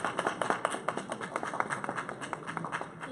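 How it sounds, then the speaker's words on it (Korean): Scattered applause from a small crowd at a political rally for lawmaker Ko Yong-jin, quick uneven claps fairly close and not very loud, with no talk over them. "고용진 의원님께 환영의 박수 안 보이지만 쳐주셨으면 좋겠습니다"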